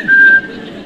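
A man imitates a single steady whistle with his voice, one short clear tone held for about a third of a second, close and loud.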